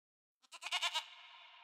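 A single goat bleat used as an audiobook sound effect: a short, wavering, nasal cry with a quick pulsing stutter that trails off, heard alone and clean against silence.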